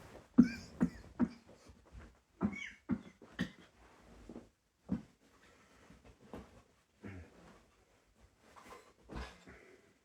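A series of short, dry coughs and throat sounds, close up, coming in uneven bursts with quiet gaps between them.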